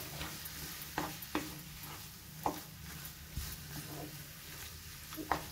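Black carrot halwa stirred in a pan over high flame, soft scraping strokes of a spoon at irregular intervals over a faint low simmer, quiet and close, no talking.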